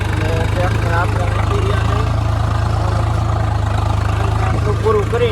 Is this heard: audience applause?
no